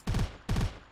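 Two quick three-round bursts from a handgun in the video game Shogun, each volley sharp and close, separated by a short pause.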